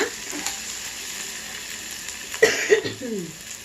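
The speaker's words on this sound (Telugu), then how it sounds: "గోల్డ్ కలర్లోకి వచ్చిందాక వేయించుకోవాలి" Curry of cucumber, onion and brinjal fries in hot oil until golden, giving a steady, soft sizzle throughout, with a few louder clattering stirs near the end.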